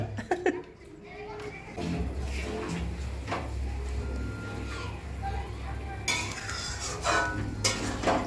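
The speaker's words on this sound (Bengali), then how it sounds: "এখানে চিংড়ি মাছ রান্না হচ্ছে" Prawns fry and are stirred in a pan, with a steady scraping stir and a faint sizzle running under children's voices and nearby chatter.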